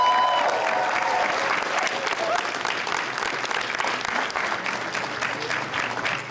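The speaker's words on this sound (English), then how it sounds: "So give yourselves a round of applause for that." Loud, continuous applause from a large audience at a national College Democrats convention, dense clapping sustained for over six seconds with faint crowd voices mixed in.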